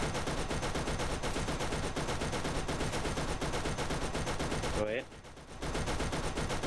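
Turret gunfire in the video game Borderlands rattles in a dense, continuous rapid stream, loud and close, cutting out for half a second before resuming.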